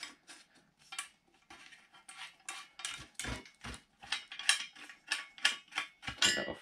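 Metal parts of a powder-coated, thick gauge steel Drotek T-shovel handle being worked and locked into place, a string of close, sharp clicks, clanks and ratcheting knocks in an uneven rhythm.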